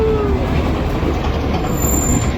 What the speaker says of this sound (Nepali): ट्रेन आयो